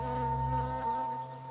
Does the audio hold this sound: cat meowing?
no